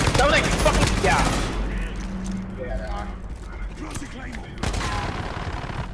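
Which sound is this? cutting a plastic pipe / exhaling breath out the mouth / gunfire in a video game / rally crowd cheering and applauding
gunfire in a video game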